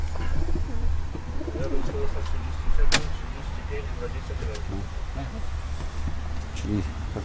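Pigeons coo softly during race basketing, low repeated calls scattered through a steady hum, with people talking and occasional handling knocks and a sharp clack partway through.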